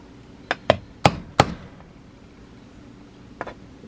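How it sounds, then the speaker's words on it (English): A fencing staple is hammered into the spring arm of a Victor rat trap with four sharp, close metallic blows in quick succession, then a short pause and a fainter fifth tap. "Next step is to hammer these staples through."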